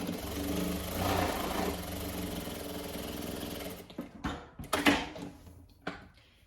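A home sewing machine, slightly out of adjustment, stitches rib knit cuffing onto winter pyjamas, a close steady mechanical hum for a few seconds, then stops amid handling clatter.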